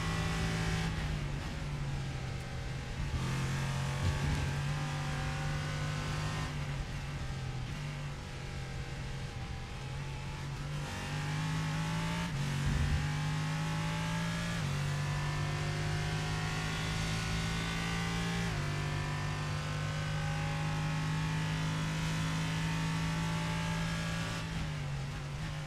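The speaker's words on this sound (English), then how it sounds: "give you some real engine noises from the sound of Ozzie Milwain" On-board race car engine during a Toyota GR86 or LMP3-GT4 circuit race, a loud continuous engine drone rising and falling through gear shifts, with no talk over it.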